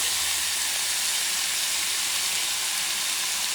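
Onions and pepper sizzle steadily in a pan over medium heat for a spicy stew, a dense, even hiss with no voices.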